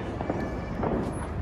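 Loud, dense crackling and fizzing of a Diwali firework rocket going off close by, a short continuous burst of bangs and hiss.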